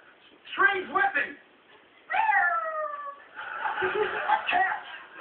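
A human voice imitates a cat, producing a pair of short meows, then a long drawn-out wailing meow, followed by a further run of yowling cat-like calls, all close and clear.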